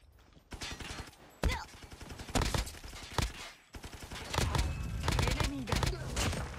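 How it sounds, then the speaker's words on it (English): Repeated gunfire from Call of Duty Mobile, a shotgun among the weapons, with sharp blasts scattered through a loud, busy battle-royale mix of game effects and a talking voice. "Oh, that's a shotgun, I think."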